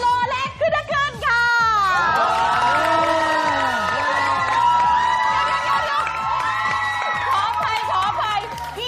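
A studio audience at a TV show cheers and shouts for a band, with high excited voices and whoops over a steady crowd roar, strongest at the start and carrying on loudly throughout.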